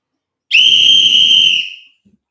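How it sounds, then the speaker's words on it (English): A single loud, close whistle blast holds a bright, steady tone for about a second and then cuts off cleanly, leaving silence. "blow the whistle"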